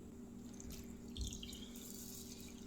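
Water poured from a measuring cup onto washed sushi rice in a pot, a faint steady trickling and splashing with a low background hum, close and quiet, no talking.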